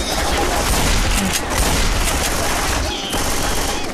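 Gunfire in Left 4 Dead 2, with loud, dense bursts of shots overlapping into a continuous close-range barrage that dips briefly before resuming.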